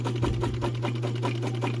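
A Kenmore 148.1217 sewing machine runs at a steady pace, a quiet motor hum under a fast, regular needle clatter, close by and with no talk.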